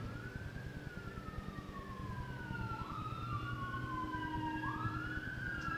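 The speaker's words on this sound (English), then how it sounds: "Let's let the sirens go by. Can't meditate with a siren going on." An emergency vehicle siren wails past outdoors, its rising and falling sweeps steady and fairly loud over a low traffic rumble throughout.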